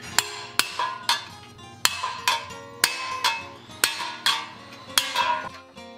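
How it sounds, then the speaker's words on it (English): Metal-on-metal hammer strikes drive a dull cold chisel into a brass repoussé wolf head resting on a flat stump, about a dozen sharp, ringing taps at an uneven, unhurried pace, close and clear with no voices. "coming in with a dull cold chisel and just working on the flat of my stump"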